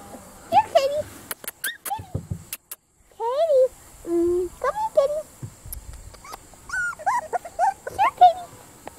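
A young puppy gives high, thin whimpers and yips in short bursts, close by, mixed with a person talking softly and gently.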